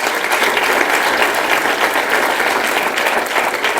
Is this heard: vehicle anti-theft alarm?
no